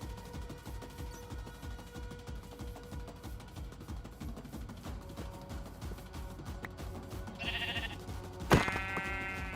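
Minecraft sheep bleating over a steady bed of in-game ambient and movement noise, with two short bleats arriving near the end, the second louder and sharper.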